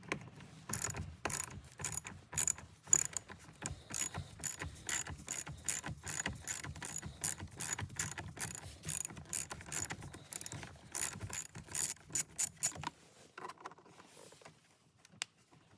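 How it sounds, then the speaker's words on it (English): A hand ratchet loosening 10 millimeter bolts on a Cadillac CT4/CT5 V Blackwing steering wheel airbag: long runs of quick, close clicking in steady rhythmic strokes, thinning out near the end. "So I'm gonna use my hand ratchet here to go ahead and loosen these bolts."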